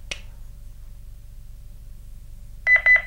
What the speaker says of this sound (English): There we go, we get the double beep